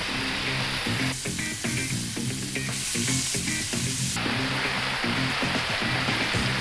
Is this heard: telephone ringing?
no